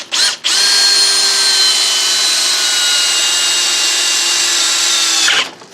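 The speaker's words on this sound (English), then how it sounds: "So we're just going to drill them out real quick, kind of get them centered." A power drill bores out the plugs on a Yamaha 1200 PV carburetor, one steady high-pitched whine running for about five seconds, close and loud, then winding down to a stop.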